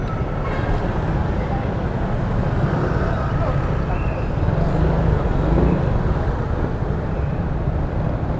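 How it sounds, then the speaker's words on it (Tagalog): Dense road traffic on EDSA in Metro Manila at night, a continuous loud roar of engines from cars and buses, heard from inside a vehicle with people talking over it. "Traffic sa EDSA."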